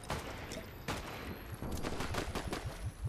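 Rapid bursts of gunfire in the Fortnite battle game, several volleys of sharp cracks following one another at a steady loud level with no talk.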